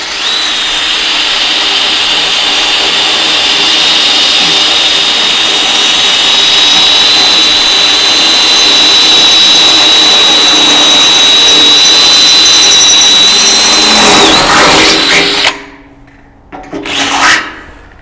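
A power drill bores holes through a clamped template on a Shopsmith during a caster replacement: a loud, steady, close whine holds for about fifteen seconds, then cuts off, followed by a few brief clattering handling noises.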